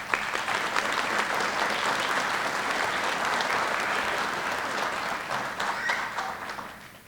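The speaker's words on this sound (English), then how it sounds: "Please give them a round of applause." A police academy graduation audience gives a sustained round of applause, loud and even with dense clapping throughout, then it tapers off toward the end.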